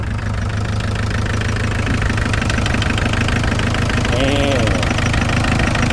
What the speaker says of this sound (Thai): เอาติดเครื่องฟังเสียงจักน้อย